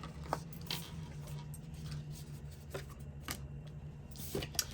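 Tarot cards being shuffled on a table, with soft papery flicks and a few sharper snaps as cards slip out, quiet and close against a low steady hum.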